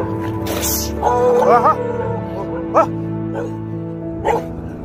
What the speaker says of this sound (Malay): Oh, ada anjing kacau.